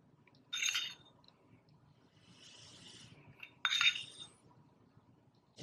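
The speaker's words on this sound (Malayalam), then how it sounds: "ഇത് ഞാനൊരു രണ്ട് സ്പൂൺ ബേക്കിംഗ് സോഡ ഇതിലേക്ക് ഇടുകയാണ്" A spoon tips two spoonfuls of baking soda into a bowl, making two short, faint metallic clinks and scrapes a few seconds apart in an otherwise quiet kitchen.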